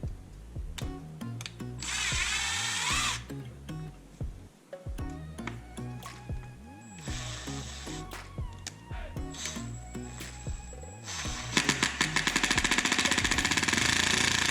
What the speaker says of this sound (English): We're just gonna drill and then probably cut the rest of it off.